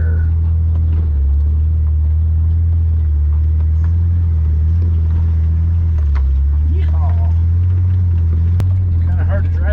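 Jeep TJ crawling over rocky terrain on an overlanding trail, a steady low engine rumble close by with occasional knocks and creaks from the rocks, and speech-like sound faintly over it.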